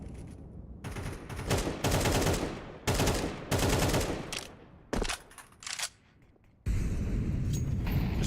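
Rapid bursts of spammed rifle fire in a Counter-Strike match, loud clustered volleys separated by short gaps, one longer sustained burst at the end.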